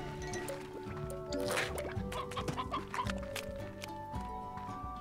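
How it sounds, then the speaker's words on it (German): Chickens cluck in the Slime Rancher game, a busy flurry of clucks and squawks laid over steady tonal game music throughout. "Okay, das war ein normales Hühnchen."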